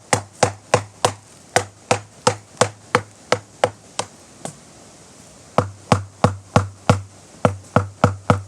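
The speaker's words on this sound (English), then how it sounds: "when you hit this, it makes a noise, and you know it's loose" Someone raps a concrete planter mold about twenty times in steady close-up knocks, pauses briefly, then knocks again; each hit is sharp and hollow with nothing else heard.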